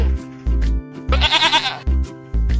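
A goat bleats several times in short, loud, nasal calls with brief pauses between them, and one longer wavering bleat in the middle, with no talking.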